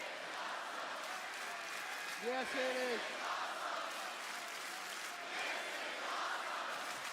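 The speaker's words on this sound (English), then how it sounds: "Crowd sound pretty loud." A distant wrestling arena crowd of about 12,000 in Cincinnati roars and applauds in a steady wash of noise, with a brief spoken reply rising above it.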